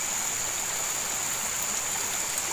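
Small river flowing at night, a steady, even rush of running water heard close and alone without any pause or talking.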